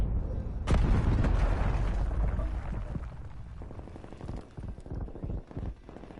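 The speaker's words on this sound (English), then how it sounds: "Enemy cruise missile launch detected" A cruise missile strike in Call of Duty Warzone lands with a sudden loud boom, and then a long rumbling roar slowly fades into scattered crackles and debris thuds.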